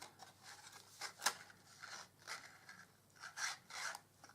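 A 1 3/4 inch paper punch notches a crescent shape into paper, producing several soft, close rasping crunches and scrapes in an uneven rhythm with no speech.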